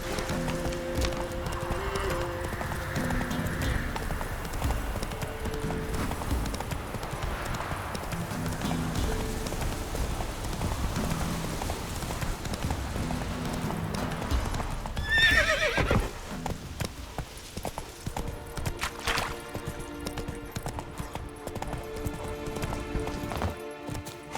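Roach, a horse in The Witcher 3, gallops with steady clip-clop hoofbeats and a whinny, over continuous game music and ambience; a brief louder burst comes midway, with no talk.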